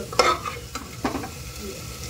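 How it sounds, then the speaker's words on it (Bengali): Spice masala frying in a wok while being stirred for a chicken curry, with a few distinct scraping stirs over a steady low sizzle, close and moderately loud, no talking. "এবার মশলাটাকে বেশ ভালো মতো কষিয়ে নেব"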